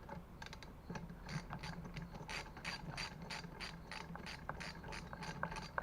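Ratchet wrench with a 10mm socket clicking steadily while tightening hardware on a bicycle build, a rapid run of close, even pawl clicks with no talking.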